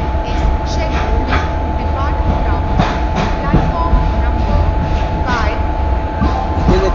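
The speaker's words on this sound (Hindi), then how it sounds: "शताब्दी सुपर फास्ट एक्सप्रेस जो निकल गई है एर्नाकुलम के लिए" Shatabdi Superfast Express train rolling out in an Indian train simulator game, a steady loud rumble with rhythmic wheel clatter and a constant hum, while someone talks over it.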